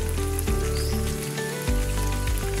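Shrimp okoy fritters deep frying in hot oil, a steady crackling sizzle with scattered pops heard close up, laid over a sustained tonal hum in the background.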